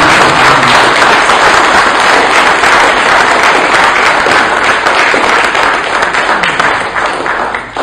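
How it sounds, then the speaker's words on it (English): Loud, dense applause from a large crowd at a talk, a steady roar of clapping that holds for several seconds before thinning slightly at the end. "please a big round of applause"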